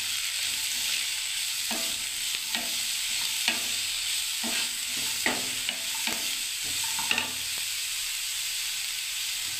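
A spoon scrapes through semolina upma in a sizzling pan, a series of short stirring scrapes over a constant hiss of frying, close by with no talking.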